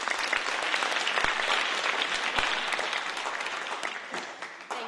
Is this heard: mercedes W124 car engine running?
no